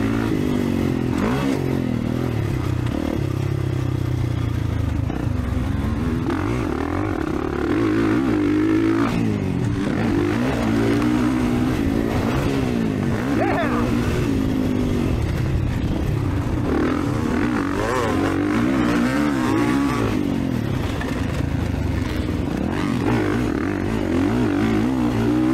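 Dirt bikes riding a motocross track in good conditions, a steady loud engine drone that rises and falls in pitch as the rider revs through turns and jumps, continuous for the whole stretch with no talk.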